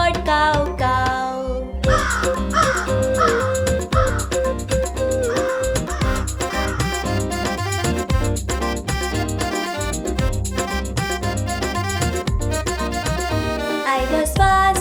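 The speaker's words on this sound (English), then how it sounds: "The crow came and woke me up, cawed, cow, cow." A crow caws several times in a bright, repetitive children's song, the bird-call effect riding over a loud, steady musical backing.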